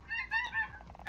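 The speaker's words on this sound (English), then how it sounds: "Snow geese" Snow geese give a few short nasal honks in quick succession, moderately close, with no voices over them.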